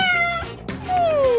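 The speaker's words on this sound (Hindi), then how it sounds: "कितनी प्यारी बिल्ली है।" A cat meows twice, loud and close, with long gliding tonal cries separated by a short pause.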